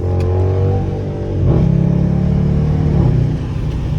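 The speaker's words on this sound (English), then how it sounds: "The downshifts aren't as aggressive." A Dodge Charger R/T engine rumbles steadily from inside the car while driving, with pitch shifts and brief surges as it downshifts.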